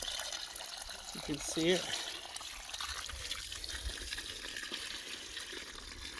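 Water pours and trickles steadily into a container in a garden, a soft continuous splashing heard close by while someone talks over it.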